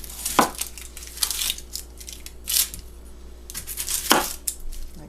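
A knife cuts the ends off an onion on a board, giving several crisp chopping and crunching strikes with two sharp thuds at the start and near the end, close and fairly loud.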